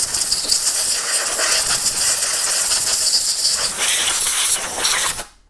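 Compressed air blasts steadily from a nozzle to clean a paramotor carburetor off a 1st Gen Atom 80 engine, a loud continuous hiss filling the shop for about five seconds before cutting off abruptly.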